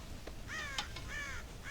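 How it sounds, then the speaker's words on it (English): Crows caw in Red Dead Redemption, several harsh calls in quick succession over a steady outdoor ambience, fairly close and with no talking. "God damn crows!"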